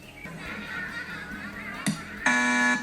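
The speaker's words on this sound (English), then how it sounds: "2 independent thought alarms in one day." A short electronic alarm buzzer sounds twice, a brief first blast followed by a louder, longer harsh tone at the end, over a quiet background hum.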